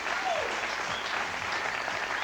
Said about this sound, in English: And a little applause for the legs.